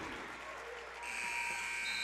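A basketball game buzzer sounds at the end of the first half of a high school boys WPIAL 2A game, Laurel vs. Eden Christian. It starts as a steady, loud sustained buzz partway through, over ongoing crowd noise in the gym.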